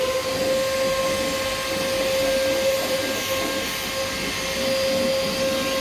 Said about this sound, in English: suck all this with a vacuum cleaner